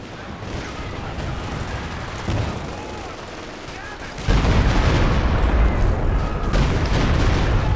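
Stuka dive bomber attack in the WWII strategy game Company of Heroes 2 during a 4v4 match: rumbling battle noise builds, then a loud sustained blast of explosions and gunfire erupts midway and keeps roaring to the end.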